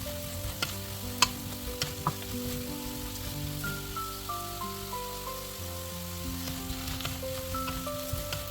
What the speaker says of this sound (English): put the potato pieces into the pan and fry them until their color turns into light brown